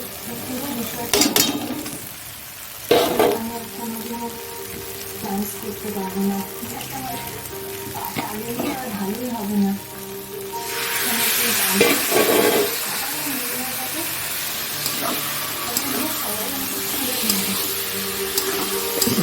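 Prawns drop into a hot pan and stir-fry with a growing sizzle that turns louder and hissier partway through, while a spatula knocks and scrapes and a person talks intermittently.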